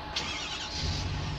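A truck engine in the Farming Simulator game runs steadily with a low rumbling drone and a faint rising rev, continuous and fairly loud throughout the short stretch, with no talking.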